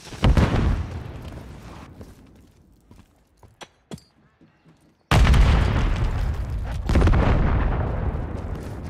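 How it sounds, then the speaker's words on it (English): A stun grenade goes off in Call of Duty with heavy booming blasts: a loud burst at the start fades into scattered sharp pops, then another big roaring blast takes over and stays loud to the end. "Stun grenade out!"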